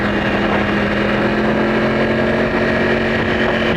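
A Yamaha R1 motorcycle engine holds a loud, steady drone under throttle on a demo ride, close and unbroken for a few seconds with a constant tone, no voices.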